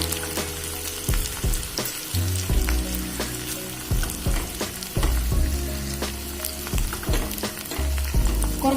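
Chopped shallots and torn dried red chillies sizzle in hot oil in a frying pan for a tomato buttermilk curry, a steady close frying hiss broken by repeated stirring scrapes.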